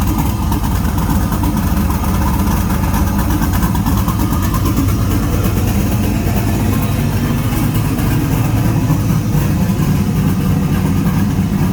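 A turbocharged LS-swapped Datsun idles steadily nearby, a constant low rumble with no talking.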